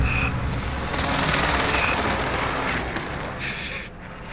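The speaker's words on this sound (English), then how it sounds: "Send the airstrike here." Heavy, rumbling airstrike explosions from a Call of Duty match roll on continuously, a loud, dense boom with debris noise that slowly tapers off, with faint tonal game effects layered above.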